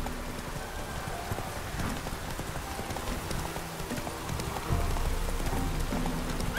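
Horse hooves clip-clop at a steady walking pace through falling rain in The Witcher 3, close and even over a constant rain patter, with no talk.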